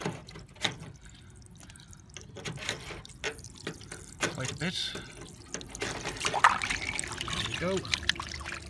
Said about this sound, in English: There might be water in here. Yes, there sure is.